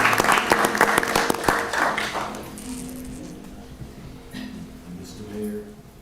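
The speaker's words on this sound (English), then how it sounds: "another round of applause" Applause at a town council meeting, dense and loud for about two seconds, then thinning into scattered claps and fading under a low room murmur.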